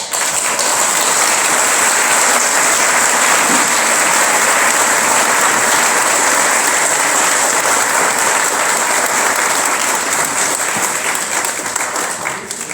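Sustained, dense applause from an audience honoring the daughters and sons of the M19, steady and loud throughout with no break, a broad wash of many hands clapping together.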